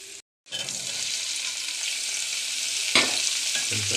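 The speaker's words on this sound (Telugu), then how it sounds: "తాలింపు వేగింది కదా. ఇలా వేగిన తర్వాత టమాటా ముక్కలను అయితే వేసుకోవాలి" Tomato pieces fry in hot tempering oil with steady, loud sizzling, a brief drop near the start and a clatter of stirring toward the end.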